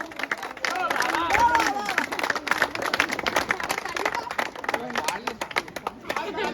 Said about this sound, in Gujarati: તાળીઓથી વધાવો.